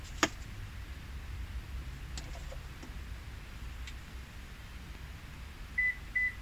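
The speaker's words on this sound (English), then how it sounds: "And we have the 2 beeps." Two short, faint electronic beeps from a Toyota car during smart key programming, near the end, following a quiet stretch with a few light clicks over steady low background hum.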